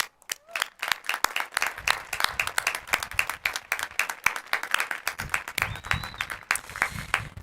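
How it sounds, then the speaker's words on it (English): A graduation audience at a Class of 2021 commencement ceremony claps, a dense, steady round of applause from a large crowd that continues throughout. "And give them a round of applause."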